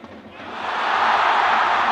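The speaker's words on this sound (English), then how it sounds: "listen to the crowd making virtually zero sound and then popping" A baseball stadium crowd sits at a low, near-silent murmur, then swells within a second into a loud, sustained roar that holds steady to the end.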